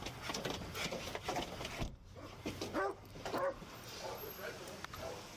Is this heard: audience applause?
no